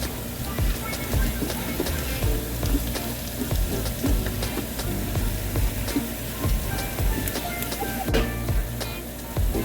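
Onions frying in a pan for Ambur chicken biryani, a steady close sizzle with scattered crackles and occasional light stirring throughout.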